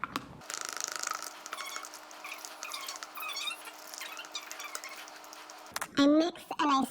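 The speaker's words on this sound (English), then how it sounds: "I mix and I smoosh." A spoon stirring and mashing gecko food powder against the side of a small container, soft scraping and squeaky rubbing under a person talking.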